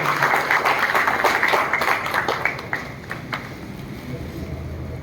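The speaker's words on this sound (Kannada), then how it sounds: "ಚಪ್ಪಾಳೆಯ ಮೂಲಕ ಧನ್ಯವಾದಗಳನ್ನು ಅರ್ಪಿಸ್ತಾ ಇದ್ದೇವೆ" Ceremony audience at a Revenue Day celebration clapping to thank the presiding sub-divisional officer, dense steady applause that thins and fades toward the end.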